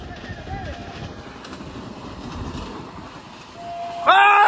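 A train rumbles past with a steady low roar, then a loud horn blares near the end; voices speak faintly underneath.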